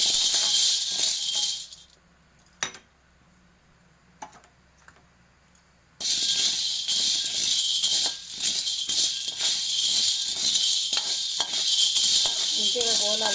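Chickpeas frying and being stirred in a kadai while roasting for sathimudala laddu, a dense crackling sizzle with scraping that drops to near silence for a few seconds, then resumes steadily close up.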